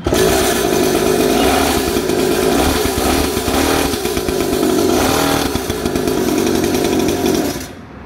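Used motorcycle engine at a secondhand bike shop, running with a harsh, buzzing exhaust note that stays loud and steady before cutting off at the end.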